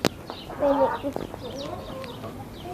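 Backyard hens in a coop, one a small bantam near its chick, cluck in a short burst amid faint scattered peeps and rustling, with a brief voice nearby.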